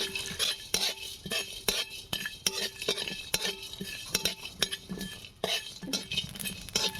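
Whole spices, including a piece of mace, are stirred and tossed in a dry pan, a quick rhythmic scraping and clinking of a spoon against metal with light sizzling.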